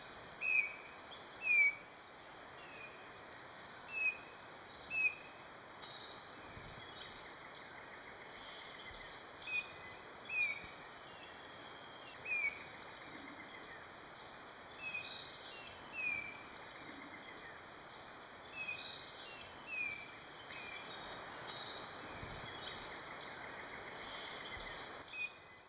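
Birds in Costa Rica call around an army ant swarm: a dozen sharp, repeated chirps at a few-second intervals ring out over a steady, faint hiss of insects in the forest, with no voices.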